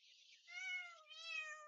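A very young kitten gives one thin, high-pitched meow that rises and wavers over a second and a half, close and fairly faint, with no other sound around it.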